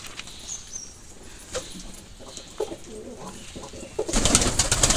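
Pigeons cooing in their coop, soft low throaty coos repeating close by, followed near the end by a louder rustle of wing flutter or shuffling, with no talk.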